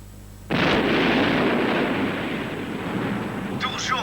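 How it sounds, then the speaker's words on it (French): A sudden loud explosion bursts out, followed by a long, rumbling roar that sustains and slowly settles, with faint higher crackles near the end. "C'est un bruit d'explosion."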